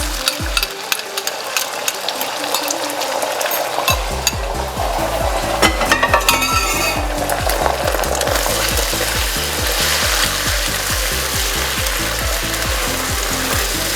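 Eggs hit hot melted fat in a wok for pork fried rice, sizzling steadily as a spatula stirs them in a quick, even scraping rhythm that runs throughout, close and fairly loud with no talking.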